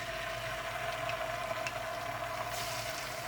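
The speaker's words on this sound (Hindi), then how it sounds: "अब इसमें मैं चिकन डालूँगी और इसे फ्राई कर लूँगी।" Chicken frying in hot oil in a karahi over high heat, a steady dense sizzle that holds evenly throughout with no voices.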